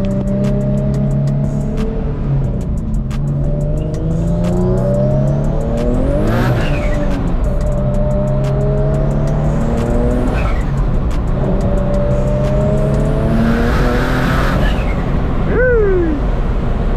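A built, single-turbo Infiniti G37 IPL on 18 psi of boost, making about 600 horsepower, accelerates hard through repeated rising pulls and gear changes. The loud engine roar is joined by brief high tire squeals near the end.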